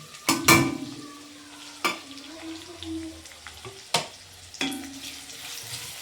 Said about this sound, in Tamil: வெங்காயத்தை போட்ட பிறகு நல்லா வதக்கணும்